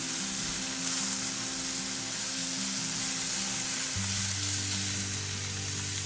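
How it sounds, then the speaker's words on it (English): Steady, loud sizzling of food frying in a Lodge Cook-It-All cast iron pan used as a wok, a continuous crackling hiss with a low hum underneath. "You see how that sizzle died down?"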